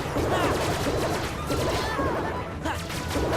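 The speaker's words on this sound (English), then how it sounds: "Aim for them only at the beginning with your gunshot attacks." Gunshot attacks in the action role-playing game Kingdom Hearts II fire as a steady, dense volley of rapid cracks and impacts, loud and continuous amid busy battle noise.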